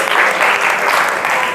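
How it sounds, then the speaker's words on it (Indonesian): Classmates applaud in a classroom, a dense continuous clatter of clapping hands that holds steady and loud for the whole short burst, with no talk over it. "Tepuk tangan buat teman-teman."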